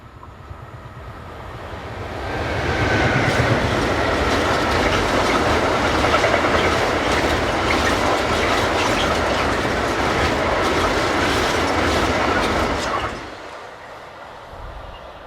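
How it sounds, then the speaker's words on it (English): RTS-owned Class 1216 electric locomotive number 902 hauling a northbound train of tank wagons, rumbling up loud and steady with rhythmic wheel clatter for about ten seconds before fading away. "Adding to the colour is RTS-owned Class 1216 number 902 on northbound tanks."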